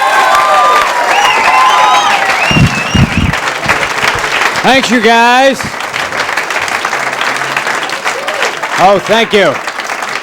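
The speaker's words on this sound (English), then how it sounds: "Please, a nice round of applause" Studio audience at a cable comedy show applauds and cheers for a comedian taking the stage, a steady loud wash of clapping with a man thanking the crowd over it.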